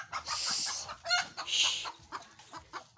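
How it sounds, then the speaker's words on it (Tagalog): Chickens cluck and squawk sharply nearby in a rural yard, several birds squabbling in quick, loud bursts with short pauses between. "Tapos yung ingay pa ng mga manok."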